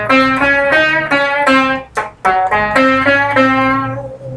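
An electric guitar runs through an octave-up pedal with the distortion knob off, playing a series of bright, ringing picked notes in a steady rhythm with a short pause partway through, loud and close.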